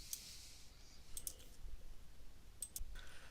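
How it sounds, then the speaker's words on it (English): A computer mouse gives a few sharp, close clicks in small clusters, quiet but distinct against a faint background, with no talking. "So I'm gonna go ahead and click next."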